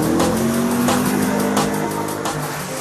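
Ford Sierra drifting and spinning donuts in a friend's yard on Castleton Road, its engine droning loudly and steadily with tires squealing and scrubbing throughout, close and continuous with no talk.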